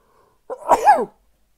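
A single sharp human sneeze, close and fairly loud, a short burst with a quick rising onset and a breathy tail, heard alone against silence.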